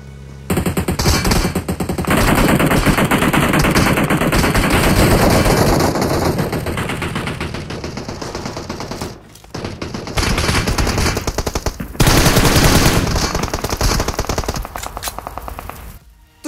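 Gunfire from all sides in a PUBG Mobile final circle: loud, dense bursts of automatic rifle fire and rapid shots, nearly continuous with brief pauses around the middle, no talking.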